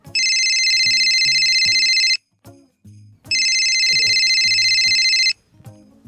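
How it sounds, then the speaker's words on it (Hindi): Mobile phone ringtone ringing in two loud electronic bursts of bright repeating tones, each about two seconds long with a short gap between them, over a quieter low melodic backing. "रुखसाना का फोन।"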